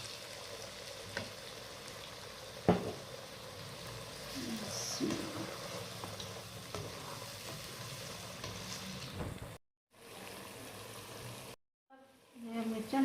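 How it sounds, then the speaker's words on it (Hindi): Tomatoes frying in a pan for daal makhni, a steady broadband sizzle that carries on for most of the time, cut by two brief pauses and a clatter near the end. "इसको थोड़ा सा भून के अब मैं इसके अंदर टमाटर डालूंगी।"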